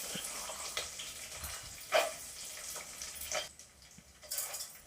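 Peanuts frying in a pan with garlic and chillies for tamarind rice, a steady close sizzle broken by a few sharp clicks and stirring knocks, no voices.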